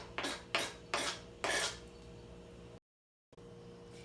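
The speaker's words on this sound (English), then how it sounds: "you put the pieces you have done into the bowl, making sure you get all the juice from the board into the bowl" Four rhythmic scraping strokes of a knife pushing cut tomato pieces and juice off a cutting board into a bowl, fairly close and alone, followed by a brief silence.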